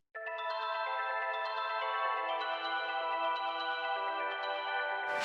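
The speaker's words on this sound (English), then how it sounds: "Add a bell for ambience." A sustained, shimmering bell-like synth tone used as ambience in a melodic deep house track, ringing steadily with soft repeated chimes on top, alone and fairly loud, cutting off abruptly at the end.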